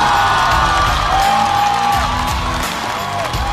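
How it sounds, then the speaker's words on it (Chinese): A talk show studio audience cheers and whoops loudly for arriving guests, a dense crowd roar with music running underneath. "我们掌声有请嘉宾出场"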